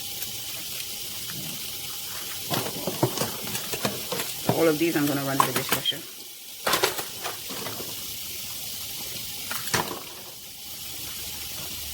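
Running tap water over bleached dishes in a kitchen sink after cleaning chicken, with intermittent splashing and clattering bursts as items are rinsed, while a person talks over it.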